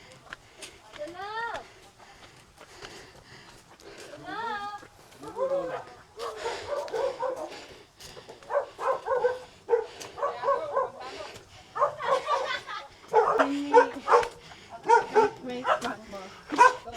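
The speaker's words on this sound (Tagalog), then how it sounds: "Yung aso." A dog whimpers and yips and then barks repeatedly at a home in the Benguet highlands, close and fairly loud, in broken bursts over a steady background hum.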